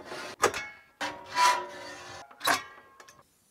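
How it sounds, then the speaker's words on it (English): Hacksaw cutting metal tile trim for a stove backsplash: three or four separate rasping strokes, each a short scrape with pauses between, fairly close and moderately quiet. "undoubtedly going to be able to cut it with just a hacksaw."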